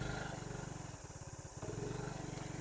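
Semi-automatic motorbike engine braking in gear on a road in Vietnam, a steady low throbbing engine note with rapid regular pulses, dipping briefly as the revs fall, heard close and alone.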